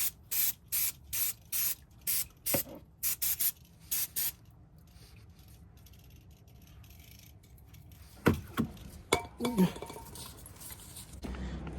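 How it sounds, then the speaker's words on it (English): Brake cleaner hisses onto car brakes in a run of about ten short, evenly spaced spray bursts, followed by metallic clinks and handling noises as tools are set down. "Some brake cleaner."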